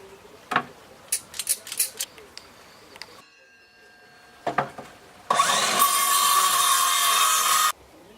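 Wood cut for a small wine cellar build: a run of sharp clicks and knocks is followed by a loud, steady power-saw whine lasting a few seconds, then it stops.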